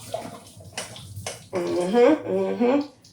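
Water splashing as cooked noodles are drained, a brief pour in the first half under a strong talking voice that carries on to the end.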